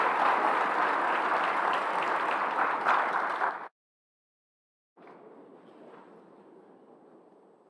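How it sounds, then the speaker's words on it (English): Forum audience in Kigali applauding loudly in a steady dense clapping that cuts off abruptly, then resumes more quietly after a short silence. "So please, a round of applause."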